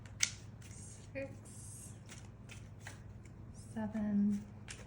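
Tarot cards being shuffled, a few scattered close riffles and shuffling bursts, while a person talks quietly over them.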